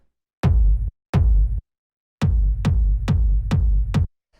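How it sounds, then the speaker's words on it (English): A self-made techno kick drum sample fires two separate booming hits, pauses, then repeats in a quicker run of six steady thumps, each loud, dry and close with a short tail. "This is just a kick sample that I made"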